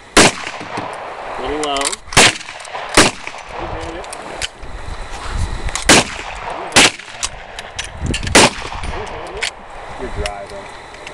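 Gunshots ring out at a shooting range, spread across the clip as several loud, sharp, close cracks. People talk between and over the shots.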